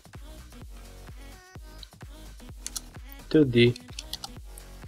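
Keys on a computer keyboard click in a quick, light run while a narrator talks over them, the tapping faint and close.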